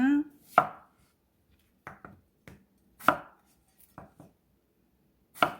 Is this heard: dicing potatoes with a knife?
yes